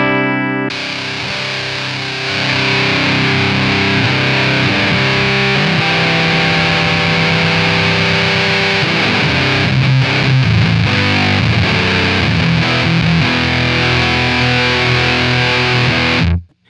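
An electric guitar runs through a Mastro Valvola OFF1 octave fuzz pedal, a thick, loud, saturated fuzz tone with sustained chords and notes that shift midway, cutting off sharply at the end.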